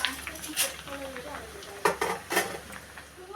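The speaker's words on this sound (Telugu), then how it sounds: "ఆ నూనెలోనే కార్న్ఫ్లెక్స్ వేసుకుందామండి. ఇది కూడా చక్కగా ఫ్రై చేసుకుందాం." Cornflakes tossed in hot oil for a spicy mixture give a steady, fairly loud sizzle with a few sharp stirring clatters of a spoon against the pan.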